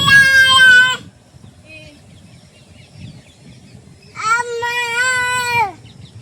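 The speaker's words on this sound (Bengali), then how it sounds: "ওই জায়গাতে ম্যাও আসে" A cat near a river in the Sundarbans gives two loud, close, drawn-out meows, the first at the start and the second after a quiet pause of a few seconds.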